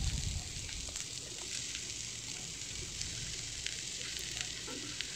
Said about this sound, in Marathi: मी त्याच्यातच कांदा, जे 4 कांदे घेतलेले कापून ते मी त्याच्यामध्ये भाजून घेते